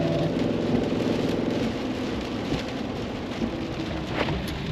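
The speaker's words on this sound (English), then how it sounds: "It's raining, it's cold, it's dark, there's lightning, thunder" Steady heavy rain hisses and patters throughout during a storm in Australia, with low rumbles of thunder rolling underneath.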